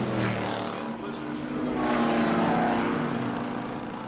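A Ford GT race car engine revs hard at high RPM on a racetrack, a loud, sustained roar that climbs in pitch without a break.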